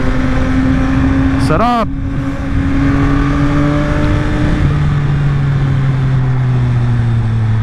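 A Yamaha XSR900 big bike engine runs loud and close with steady drone, one sharp rev rising and falling near the start, then a gradually climbing pitch, under a man's brief speech.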